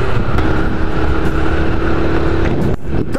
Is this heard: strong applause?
no